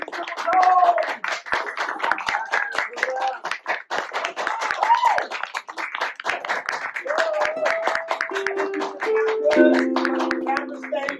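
A crowd claps steadily, dense and continuous hand claps, with some voices and cheering mixed in near the end.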